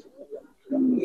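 Giribaz and coloring pigeons in a loft give a soft, close coo, a short murmur followed by a stronger sustained note.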